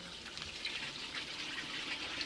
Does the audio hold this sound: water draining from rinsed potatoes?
yes